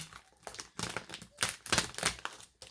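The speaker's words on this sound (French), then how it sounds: "et puis la pochette se déchire" A pouch is peeled apart and tears, giving a close series of crinkly, ripping bursts in uneven rhythm with short pauses between pulls.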